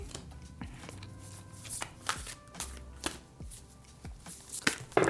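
Tarot cards being shuffled by hand, a run of crisp riffling and slapping bursts in steady rhythm, close and moderately loud, with no talking.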